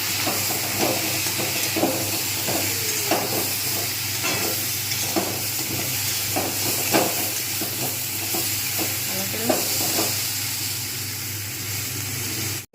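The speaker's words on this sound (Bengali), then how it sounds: "কষিয়ে ভেজে নিলাম" Bori (sun-dried lentil dumplings), tomato and green chillies fry and get stirred in a pan for a Bengali fish curry, with a steady sizzle and repeated soft scraping strokes of a spatula throughout.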